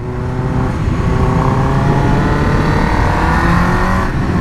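A customized Suzuki GSX-R 1000 motorcycle revs loudly outside Urbino, its engine note holding a steady, strong whine with rising and falling harmonics for several seconds, close and alone.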